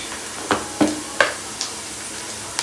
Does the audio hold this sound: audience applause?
no